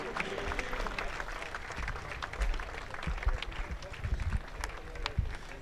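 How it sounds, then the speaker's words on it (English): Spectators at the closing ceremony of the 2014 World University Rowing Championship in Gravelines applaud the rowing athletes with dense, continuous clapping, while an announcer's voice carries on over it. "Give our athletes a big round of applause."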